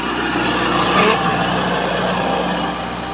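A tractor with a Stanadyne pump running while hitched to an 18-disc harrow with 26-inch discs, a loud steady diesel drone with a slight swell in the middle and easing toward the end.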